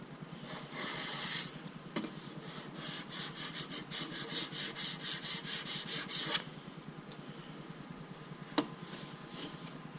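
A rocket nosecone tube for a G12 avionics bay being sanded by hand, a close rhythmic rasping of back-and-forth strokes that quickens mid-clip and then stops, leaving a couple of faint knocks.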